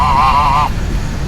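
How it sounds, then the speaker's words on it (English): Semi-wild domesticated geese, likely crossed with Canada geese, honk at a spring in Mammoth Spring State Park: one loud, wavering nasal honk close by that fades after a moment, with steady outdoor ambience beneath. "I guess semi-wild domesticated geese, probably crossbred with Canadian geese that winter down here"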